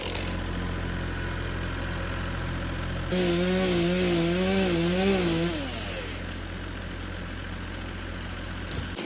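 A Stihl MS 241C chainsaw idles close by with a steady engine drone, then revs up in a rising, wavering whine for a couple of seconds before settling back to a lower idle.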